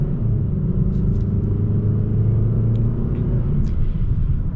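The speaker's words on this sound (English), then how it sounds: "we're gonna get kind of like a minor acceleration here" A 2022 Hyundai Sonata SEL accelerates moderately, heard from inside as a steady low engine drone and road rumble at an even loudness with no talk.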